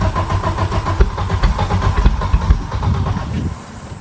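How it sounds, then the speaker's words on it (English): A 1991 Audi 90 Quattro S2 with a big turbo engine cranks over on the starter, losing fuel pressure, a loud close rhythmic churning that stops abruptly near the end, with no voices. "As it's cranking, it's losing fuel pressure."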